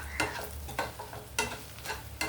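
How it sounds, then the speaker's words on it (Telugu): Taro pieces frying in a pan with chili powder, with a steady sizzle and a spatula scraping and stirring in regular strokes every half second or so. "కారం వేసాక ఇంకొక 2 మినిట్స్ వేగితే చాలండి."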